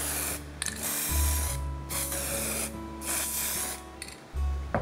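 Blue spray paint hisses onto a handmade surface fishing lure in several short bursts separated by brief pauses, close and fairly loud, with no talking.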